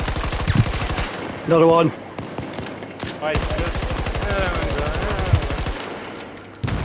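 Rapid automatic gunfire from the video game Battlefield 2042, loud, dense bursts running almost nonstop, with players talking over the shooting.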